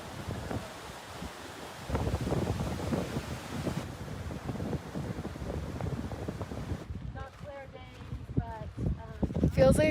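Cold wind gusts buffet the microphone on a high mountain trail near Everest, up in the clouds, a continuous rough roar that swells and eases, with voices and other sounds near the end.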